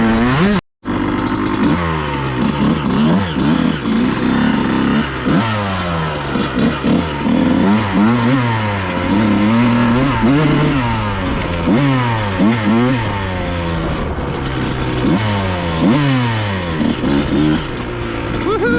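A cold 2001 Honda CR 125 motorcycle fitted with V-force 3 reeds and a 2002 exhaust manifold runs close and loud, its engine note rising and falling through repeated revs after a brief cut near the start.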